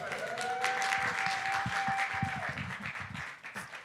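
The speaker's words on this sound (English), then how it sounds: "so give them a round of applause" Applause from a summit audience, steady and fairly faint, with a sustained tone running beneath the clapping for the first couple of seconds.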